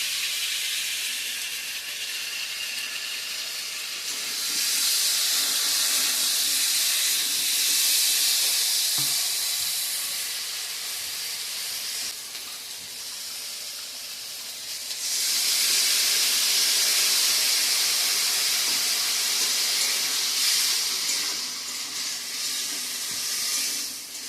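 Ginger-garlic masala paste sizzles loudly in a hot pan after dried red chillies were fried. The steady hissing sizzle swells twice, each time for several seconds, with no talk over it.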